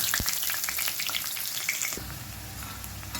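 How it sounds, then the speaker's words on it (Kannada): Chopped onions fry in a hot oil tempering with green chillies, a steady crackling sizzle with bursts of popping and a few stirring scrapes, close and continuous. "ಈಗ ಕಟ್ ಮಾಡಿ ಇಟ್ಕೊಂಡಂಥ ಈರುಳ್ಳಿಯನ್ನು ಒಗ್ಗರಣೆಗೆ ಹಾಕ್ಕೊಳ್ತಾ ಇದ್ದೇನೆ."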